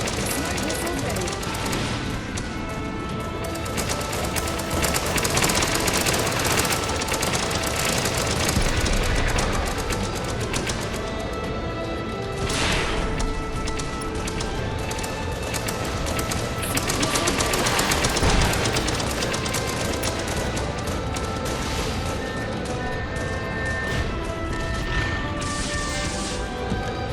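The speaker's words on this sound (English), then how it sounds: "Smart missiles ready." Smart missiles fire in the video game Project Nimbus as a dense, continuous barrage of rapid blasts and crackling explosions, loud and sustained, with a voice speaking over the action.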